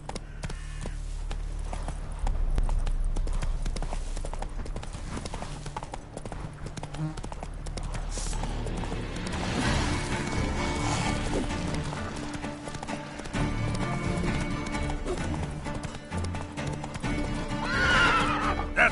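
A horse gallops in The Witcher 3, its hoofbeats clip-clopping in a steady rapid rhythm with occasional neighs, loud and close over game ambience.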